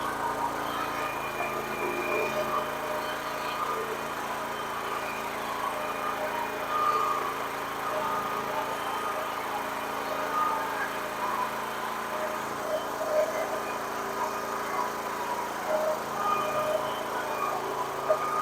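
A tractor engine runs steadily with its PTO engaged while a carrot bed is prepared, giving a continuous moderate drone with a faint whine on top and no breaks.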